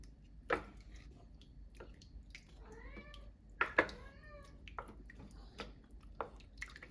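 A house cat meows insistently in a kitchen while soup is being made, two or three drawn-out, rising and falling cries close by over a low steady background hum, with light clicks and taps around them and no talking.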